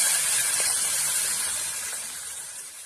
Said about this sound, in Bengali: হলুদ লবণ মাখিয়ে রাখা চিংড়ি মাছগুলো ভেজে নেব।